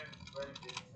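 Keys clatter on a computer keyboard while entering values into Revit MEP software, a quick run of light clicks over about a second, close and moderately quiet, with a voice talking over the typing.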